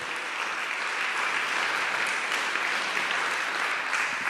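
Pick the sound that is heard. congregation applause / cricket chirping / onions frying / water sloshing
congregation applause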